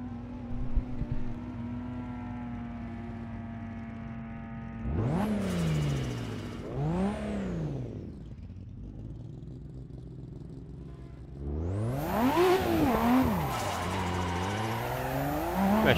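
A Nissan 180SX drifting in Assetto Corsa at Tamada Sportsland, its engine droning steadily before rising and falling in hard revs, with two bursts of screeching tire skid, loud and close and with no talking.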